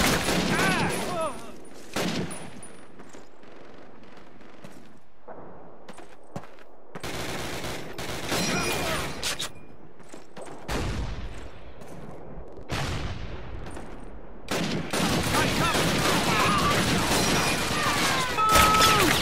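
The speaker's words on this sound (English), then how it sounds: "They're shooting medics, too!" Machine-gun and rifle fire in a Call of Duty World War II level at Brecourt Manor, France, with repeated loud bursts and sustained volleys broken by short lulls, and soldiers' voices shouting over the battle.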